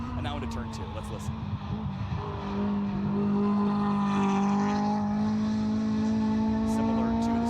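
A K-swap race car with mufflers circles the GingerMan Raceway road course at a GRIDLIFE Midwest event. Its engine note is steady and warbling, rising as it accelerates past, with a commentator talking over it.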